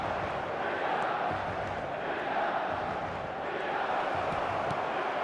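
Stadium crowd noise from an eFootball 2026 match, a steady broad roar that swells slightly in waves, with commentary talk mixed in over it throughout.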